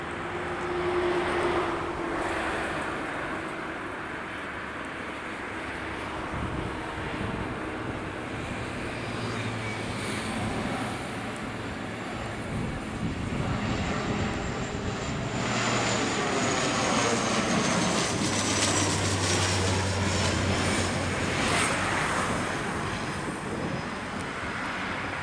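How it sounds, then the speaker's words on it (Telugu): A SpiceJet Dash 8-400 turboprop on a Goa to Hyderabad flight lands at Hyderabad airport, its engine roar rising and falling steadily and loudly over about twenty-five seconds with no talk. "Hyderabad airport landing."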